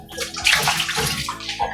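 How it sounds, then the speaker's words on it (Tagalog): Water poured into a pot of chicken being prepared with vinegar for smoked chicken, a steady splashing, sloshing pour lasting under two seconds, close and clear with no talking. "At lagyan po natin ng tubig."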